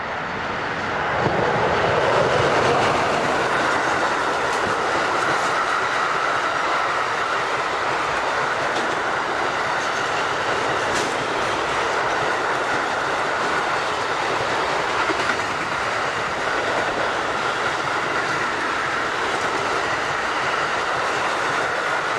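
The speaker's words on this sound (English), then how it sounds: "In our final scene, 140-551 is seen on this southbound container working." A southbound container train hauled by a Class 140 electric locomotive rolls past, a steady loud rumble with rhythmic clickety-clack of wagons over rail joints, sustained for over twenty seconds with no voices.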